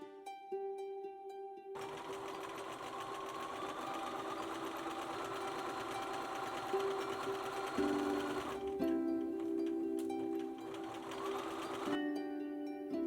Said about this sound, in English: Then sew the two legs together by aligning the seams and then sew the whole way around.